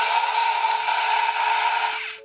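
A Parkside PP 110 A1 toy chainsaw powered by 1.5V AA batteries whirs with a steady, high-pitched electric buzz for about two seconds, then winds down as it is switched off.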